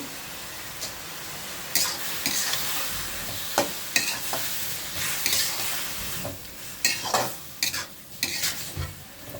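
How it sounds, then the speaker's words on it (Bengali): Tomatoes with salt, turmeric and sliced green chili fry on a stove, a constant sizzle broken by repeated scraping, clattering strokes of a spatula against the pan, close and moderately loud. "টমেটো ভাজিটা ওই চুলায় বসাই দিছি।"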